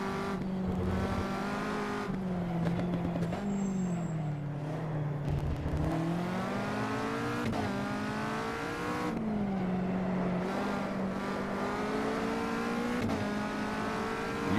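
Caterham 360R racing through Cadwell Park in the Automobilista simulator: a continuous loud engine whine rising and falling with shifts and throttle lifts, with a hint of tire scrub, no voices.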